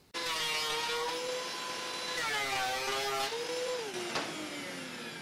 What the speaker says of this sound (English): we're gonna take this side over to the planer and get this side all leveled out as well.